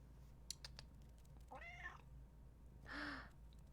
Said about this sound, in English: You're meowing at me.